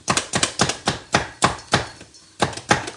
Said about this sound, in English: chopping them with a food chopper.